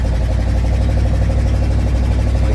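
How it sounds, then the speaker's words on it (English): Loud exhaust note from a 1977 Dodge Power Wagon plow truck, a steady, deep engine rumble holding close and constant without breaks. "Don't mind the loud exhaust,"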